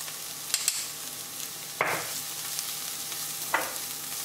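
Ingredients sauté in a pan for a Sri Lankan shrimp curry, giving a steady low sizzle throughout, broken by a few sharp clinks of a utensil stirring against the pan.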